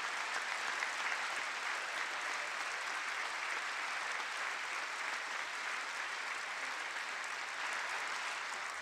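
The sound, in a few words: audience applause during the State of the Union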